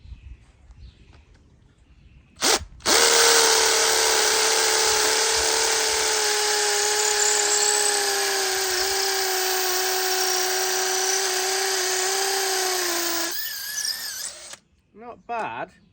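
Makita drill fitted with a 5.5 mm bit drilling into material, a sharp whine starting abruptly and holding steady for about ten seconds before cutting off, with brief clicks and handling sounds around it.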